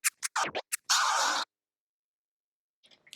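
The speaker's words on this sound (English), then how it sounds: "So a one-click flare sounds like this." A one-click flare scratch on a DJ turntable: several quick choppy scratch bursts followed by a longer swipe, close and loud, then silence with faint trailing scratches.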